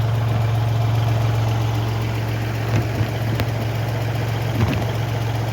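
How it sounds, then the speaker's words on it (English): A Kubota L3901 38-horsepower tractor idles steadily nearby, its low, even diesel rumble running without a break and with no talk over it. "So this is a Kubota L3901. So this is a 38 horsepower tractor."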